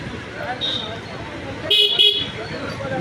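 Congested street traffic in Adoni town with autorickshaws, two short bright horn honks close together near the end over a steady road hum, with speech in the background.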